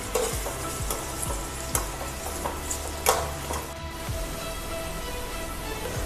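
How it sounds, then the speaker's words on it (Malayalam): Onions sauté in a hot pan with a steady, close sizzle, while a spatula scrapes and stirs in repeated strokes throughout. "ഈ സവാള ഒന്ന് വരട്ടിയെടുക്കാം."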